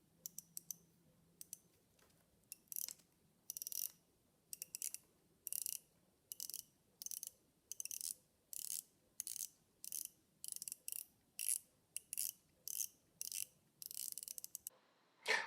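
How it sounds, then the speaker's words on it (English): Ceramic bezel on a Parnis watch turned in short bursts, each a crisp run of tiny ratchet clicks, repeated about a dozen times at a steady pace, very close and quiet against near silence. "The bezel is quite an interesting sound. It reminds me of cranking up a washing machine"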